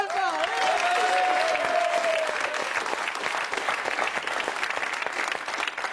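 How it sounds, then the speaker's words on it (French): Sustained audience applause in a television studio, steady dense clapping from a large crowd throughout, with a brief tonal sound and voices rising over it at the start. "On peut l'applaudir également."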